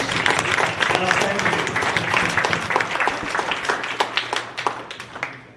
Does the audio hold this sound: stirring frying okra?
no